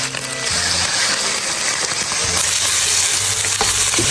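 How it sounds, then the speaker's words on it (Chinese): Chicken thighs fry skin-side down in oil in a flat pan, a loud continuous sizzle with crackling, mixed with clicking and scraping from utensils, and no voices. "锅里面泼点油，开始煎鸡排"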